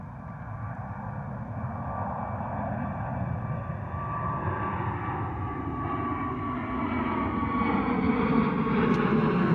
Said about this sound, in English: Beautiful Wizz Air departure.